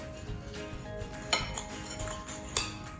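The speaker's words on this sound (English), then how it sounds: "And now I can cut the garlic toast into diagonal pieces." Knife slicing garlic cheese toast into diagonal pieces on a plate, giving two sharp clinks of blade against dish amid soft scraping and crunching, close and fairly quiet.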